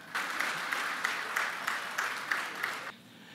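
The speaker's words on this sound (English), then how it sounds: "I think that you should applaud them for that" Steady, evenly paced audience clapping at the Barbados Ball gala, moderately loud with a regular rhythm, stopping abruptly after about three seconds.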